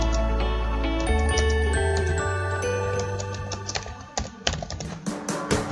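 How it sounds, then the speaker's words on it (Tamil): Clicks of typing on a computer keyboard while entering text in Adobe Photoshop, a quick run of light taps surfacing near the end beneath steady background music. "இப்போ கிளிக் பண்ணிட்டு எனக்கு தேவையான வேர்ட்ஸை டைப் பண்ணிடுங்க."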